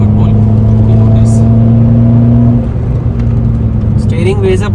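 Steady mid-pitched engine drone from a high-mileage car with nearly 98,000 km, running loud and close throughout, its tone easing slightly partway, with a brief voice near the end.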